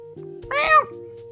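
A single cat gives one clear, close meow that rises and falls, sounding alone over a faint steady hum.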